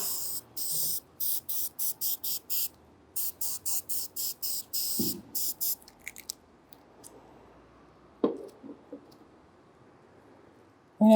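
A spray can fires a rapid series of short hissing bursts, close and fairly loud, during an art workshop on decorating chairs. The bursts stop, and scattered handling clicks and rustles follow in a quieter stretch.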